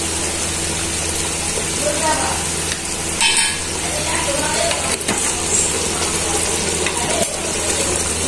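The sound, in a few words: chicken being cooked in a pan after adding milk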